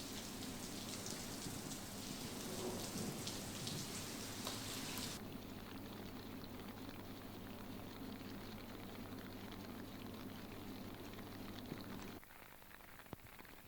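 Heavy unseasonal rain pours steadily in the streets of Kashipur, Uttarakhand, a dense, constant hiss of downpour with no voices, briefly brighter at the start and shifting slightly near the end.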